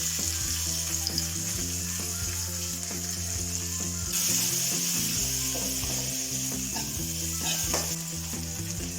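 Onions and tomato frying in a pan with salt for a biryani base, a steady close sizzle broken by repeated scraping and clinking as a spoon stirs the mixture.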